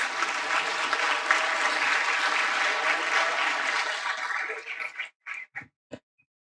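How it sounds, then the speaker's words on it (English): Audience applause at a high-level United Nations launch event on food security, steady dense clapping from a large room that tapers into a few last separate claps and fades out. "Let's welcome him with a round of applause."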